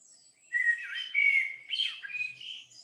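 A blackbird sings a fluty song in the South Devon countryside in summer, its clear whistled phrases rising and falling in a few close, moderately loud bursts with no other sounds.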